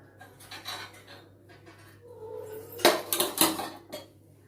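A spoon stirs custard in a thick kadai, scraping and clinking against the metal pan in irregular bursts, with sharper knocks toward the end and no talking.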